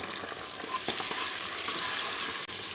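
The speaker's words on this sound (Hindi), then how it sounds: "हम लहसुन और अदरक के पेस्ट को फ्राई" Garlic-ginger paste fries with onions for beef nihari, a soft, continuous sizzle with a few light stirring taps, fairly faint and close, with no talking.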